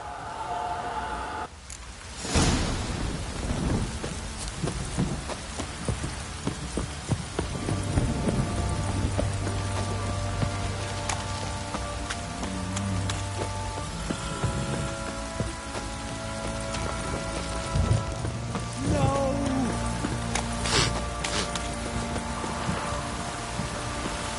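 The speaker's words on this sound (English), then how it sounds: "Don't stop raining, my arse will rot off." Steady rain patters throughout, with rhythmic horse hoof clops and game music tones underneath in The Witcher 3 video game; no voices.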